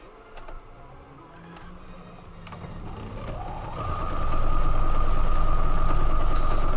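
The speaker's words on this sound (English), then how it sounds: "Let me sew these up together here real quick." A sewing machine stitching pieces of a Thanksgiving gnome table runner together, starting with soft handling clicks, then ramping up into a steady, loud, close whirring run that holds to the end.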